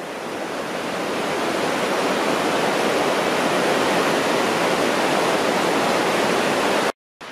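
A river beside the North Fork Skokomish trail on a snowy winter day, heard as a steady, loud, broadband rush of flowing water that fills the scene, with no voices.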